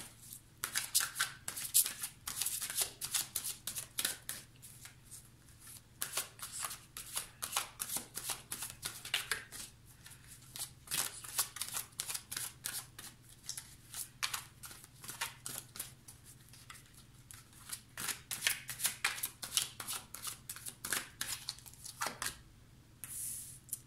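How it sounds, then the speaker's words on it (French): Tarot cards are shuffled and drawn in a quiet room, a long run of crisp riffling flicks and slaps that come in close bursts with brief pauses. "Je vais tirer 3 cartes."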